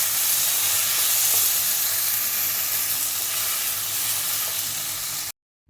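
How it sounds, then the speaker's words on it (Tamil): Three tomatoes and onions sauté in a pan, a steady close sizzling hiss with faint stirring that runs evenly before cutting off abruptly. "3 தக்காளியும் சேர்த்து நம்ம நல்லா வதக்கி விடலாம்"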